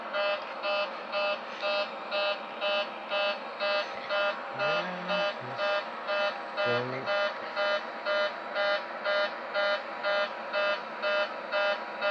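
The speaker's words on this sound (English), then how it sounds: "So this is the cabin pressurization warning." Cabin pressurization warning on a Boeing 737-800 in the X-Plane flight simulator: a steady pulsing electronic horn repeats about twice a second throughout, loud and even, with a brief lower tone briefly overlapping mid-way.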